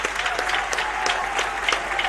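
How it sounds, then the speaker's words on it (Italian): Crowd inside the Palasport of Forte dei Marmi claps after a roller hockey Supercoppa match, a loud, continuous patter of hands with sharper individual claps standing out. "ricevono gli applausi del pubblico del Palasport di Forte dei Marmi"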